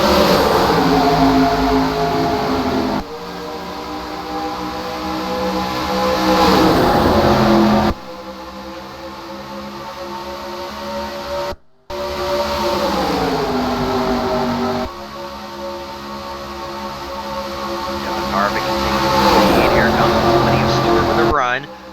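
Stock cars roaring around Charlotte Motor Speedway at the 2008 World 600 after a green-flag restart, loud continuous engine drone with passing whooshes and pitch sweeps, broken by a few cuts, under race commentary.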